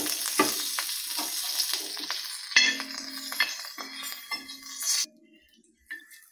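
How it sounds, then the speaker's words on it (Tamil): Curry leaves crackle and spit in leftover sardine-frying oil, with a dense, close sizzle, scattered pops and a few metal clinks from stirring, then the frying drops away abruptly to near quiet for the last second or so. "இப்போ அந்த எண்ணெயிலேயே கொஞ்சம் கருவேப்பிலையை போட்டு வறுத்து மேலே தூவிக்கலாம்."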